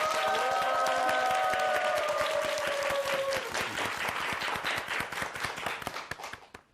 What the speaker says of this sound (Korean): 강의를 박수로 청해 듣습니다